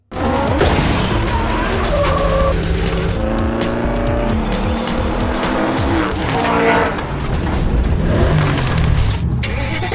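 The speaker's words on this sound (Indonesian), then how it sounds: "Titi berusaha menyingkirkan Roy dari balapan itu." Cars street racing in a film scene give loud, continuous engine roar with repeated tire squeals and skids, layered with dramatic music and effects.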